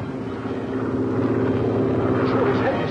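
A propeller airplane drones steadily and grows slightly louder as it approaches, a low continuous engine hum near a naval base in an old adventure serial, under background noise.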